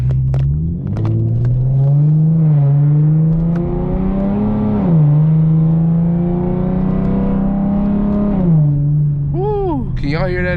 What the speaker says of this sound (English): Can y'all hear that exhaust from the cabin?